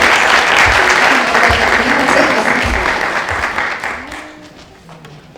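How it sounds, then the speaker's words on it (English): A big round of applause from an event audience in Paris honoring five women's ambassadors, a loud steady wash of clapping that gradually fades toward the end. "Please, a big round of applause for them."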